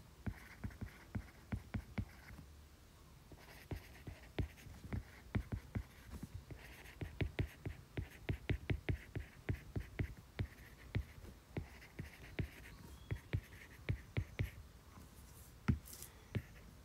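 Pupils in a classroom write in exercise books, with quiet, close pencil taps and scratches recurring in an irregular patter over a low background hum and no voices.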